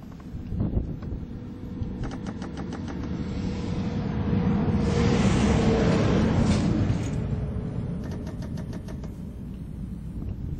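A Vista Clara GMR instrument firing a fast CPMG pulse sequence, heard as bursts of rapid, evenly spaced clicks like a distant machine gun, running beneath steady rumbling traffic and wind noise outdoors.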